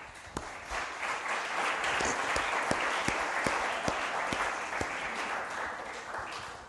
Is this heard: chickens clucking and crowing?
no